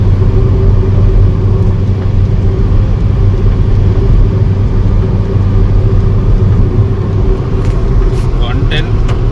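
A Maruti Suzuki Baleno Zeta hatchback cruising at about 110 km/h, heard from inside as a steady, loud low road and engine rumble throughout, with faint clicks near the end.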